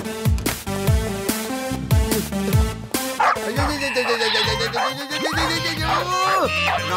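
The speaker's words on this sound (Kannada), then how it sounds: "ನಾಯಿ, ನೀನ್ ಯಾಕಿಲ್ಲಿ ಬಂದೆ?" A dog barks and yips in short bursts amid busy music and other sounds, with voices present, fairly loud and close.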